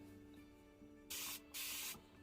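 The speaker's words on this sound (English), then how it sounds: "So I'm just gonna start by spraying this all over the hair." A spray bottle mists water onto a curly lace wig in two quick hissing bursts, close and crisp, each lasting under half a second against a quiet room.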